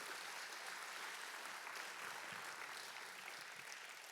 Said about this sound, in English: Big round of applause again for getting back up.